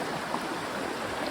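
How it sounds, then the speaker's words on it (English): The Maripio river flows steadily in a close, continuous broadband rush of water, with no voices over it. "I think this is the Maripio river"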